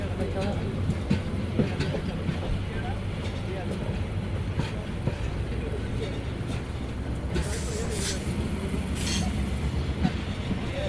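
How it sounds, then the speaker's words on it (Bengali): The Mohanagar Provati intercity train, on the Dhaka to Chattogram line, keeps up a continuous low rumble with regular wheel clacks as it runs on from Comilla station. Muffled voices sound faintly under the noise. "এগারোটা দশ মিনিটে আমাদের ট্রেন ছেড়ে গেল কুমিল্লা রেলওয়ে স্টেশন"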